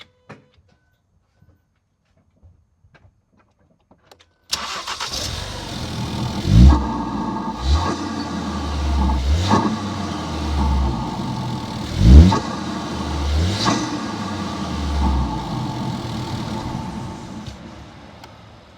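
A Ford Focus RS MK3 running its stock air filter starts after a quiet lead-in, settles into a rumbling idle, then gets several sharp revs blipped in a row, heard up close with nobody speaking.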